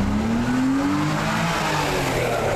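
A BMW 'shoebox' sedan drives past at a BMW car show, its engine note rising then falling as it passes close by, loud and continuous with no talk.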